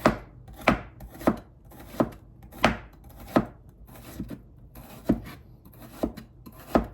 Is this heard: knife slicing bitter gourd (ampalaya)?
yes